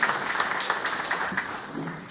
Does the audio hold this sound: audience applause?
yes